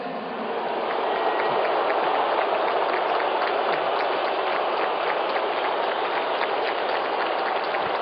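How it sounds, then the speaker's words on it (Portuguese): A large stadium crowd jeers and boos President Dilma Rousseff at a Brazilian football event, a dense, steady roar of voices spread wide and continuous at high volume throughout. "Vaias a presidente Dilma Rousseff"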